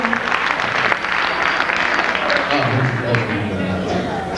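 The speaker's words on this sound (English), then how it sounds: "a big round of applause for Nelson Mandela" A comedy club crowd applauds and cheers for Nelson Mandela, loud mixed clapping with voices and crowd noise mingled throughout, lower rumbling chatter rising near the end.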